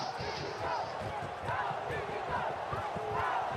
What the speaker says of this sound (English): And the chant of "Go Fiji Go" comes up around the crowd.